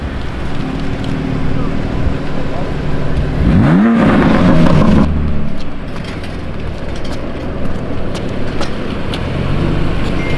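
Manhart MH2 tuned BMW 2 Series with 630 horsepower, its engine blipping in a sharp rising rev around the middle, loud and close against steady outdoor street noise and wind.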